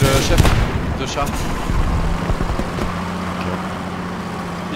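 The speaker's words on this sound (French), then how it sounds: "Il a foncé sur ma mine. Boum." A tank in the WWII game Post Scriptum driving onto a mine, heard as heavy booming blasts and rumbling explosion noise at the start, then a low engine drone under ongoing battle sounds.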